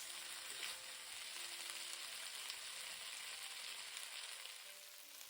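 Vegetables sizzle in a hot pan during a Mongolian beef stir-fry, a steady crackling hiss with faint stirring scrapes, fairly quiet and continuous with no talk.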